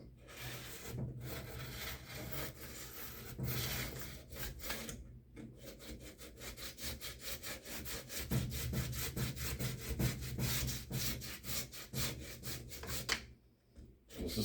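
A Remington 597 .22 rifle stock is worked by hand with very heavy grit sandpaper, a steady, close, coarse rasping scrape in rapid back-and-forth strokes that continues almost without pause, with only a few brief gaps.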